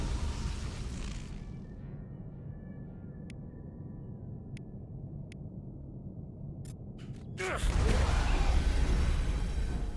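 A grenade explodes in the Mass Effect video game, a sudden loud broadband blast near the end that follows a quieter stretch of low rumble and brief sharp clicks and tones.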